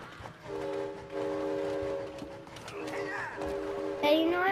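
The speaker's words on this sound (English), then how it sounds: "you know I'm blowing my whistle?" A train whistle in the video game It Takes Two sounds in steady sustained tones over a low rumble, with people talking underneath and a rising synthetic sweep at the end.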